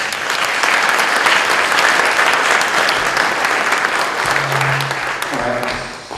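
A crowd at a 2018 Martin Luther King breakfast event applauds steadily and loudly, a dense wash of clapping that fades slightly toward the end.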